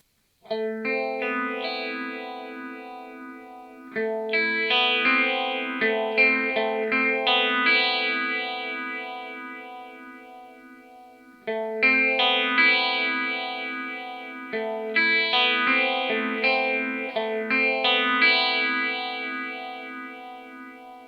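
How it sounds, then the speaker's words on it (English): A guitar is played through a ZVEX Vibrophase analog pedal set to phase with feedback, its sweep kept in the mid-range, giving clean sustained chords that warble and swirl over two repeating phrases, close and alone. "This analog circuit in here creates a really pretty vibrato sound."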